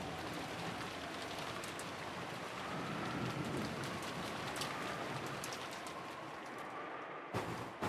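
Heavy steady rain with a gusting wind in a video game scene, a dense continuous wash of drops on surfaces with a faint distant rumble, loud and unbroken until a brief break near the end.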